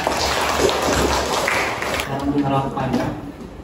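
Classroom applause for classmates who asked questions, a short burst of clapping from students mixed with chatter and voices talking over it.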